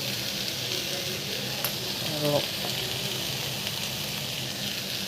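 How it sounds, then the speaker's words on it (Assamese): Fiddlehead fern (dhekia) sizzles as it fries in a pan over low heat, a steady hiss with brief stirring clatter partway through, close up, while a voice speaks a word. "আকৌ কম জুইত ভাজি থাকিম, নহ'লে বিজল লাগি যায়।"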